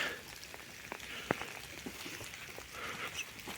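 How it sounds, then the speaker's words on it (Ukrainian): Rain falls steadily on a forest in autumn, a soft, even patter on leaves and ground with a few sharper drops standing out close by, heard alone without talk. "Дощ потроху припиняється."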